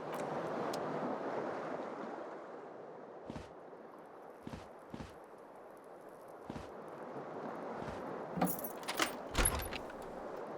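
A single key on an aluminium keyring labelled Whirling-in-Rags, in the video game Disco Elysium, jangles in a few short metallic bursts near the end, over a soft, steady coastal wind-and-surf ambience.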